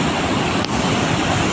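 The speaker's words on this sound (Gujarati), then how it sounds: "દિવાળી પછી વરસાદ આવ્યો એના કારણે કોઝવે ઓવરફ્લો થઈ ગયો છે" Floodwater pours over the causeway in Surat after post-Diwali rain swelled the river upstream, a loud, steady broadband rush of churning water with no voices, continuous throughout.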